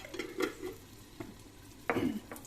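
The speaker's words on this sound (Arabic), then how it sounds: "ونخليوها تتقلى شوية، اللحم يتقلى شوية" Meat sizzles in a pan seasoned with turmeric and harissa, a quiet steady frying hiss punctuated by several scraping stirs of a utensil against the pan.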